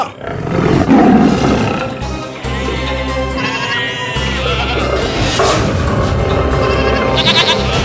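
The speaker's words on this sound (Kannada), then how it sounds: "ಹುಲಿಯ ಧ್ವನಿ ಮಾತ್ರ ಕೇಳಿಸ್ತಿದೆ" A tiger roars loudly and close, in long rumbling bursts over dramatic background music and rustling, with no speech.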